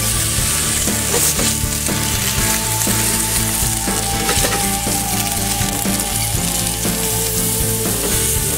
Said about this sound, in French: notre rouget, poêle bien chaude.